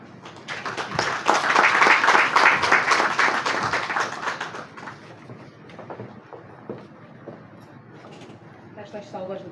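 Audience applause at the opening session of a national press-freedom conference, loud broadband clapping for about the first four seconds that fades to scattered claps and room noise.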